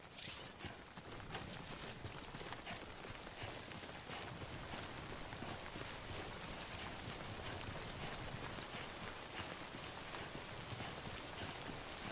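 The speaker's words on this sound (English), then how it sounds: "Don't stay out in the rain any longer than you have to." Steady timefall rain in the video game Death Stranding, a dense, continuous hiss of drops falling on surfaces that holds an even loudness throughout, with no voices.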